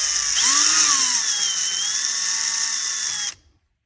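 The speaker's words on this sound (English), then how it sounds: "you should be able to drill your hole" Power drill boring a hole into the aluminum frame corner of a sliding screen door, a loud steady whine held for about three seconds before it cuts off abruptly.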